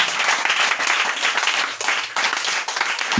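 A church congregation keeps up loud, continuous applause and clapping for Jesus, a dense wash of many hands from start to finish, with some crowd noise mixed in.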